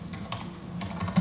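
Rapid typing on a computer keyboard, a steady run of close, light key clicks with a few louder strokes near the end, no talk.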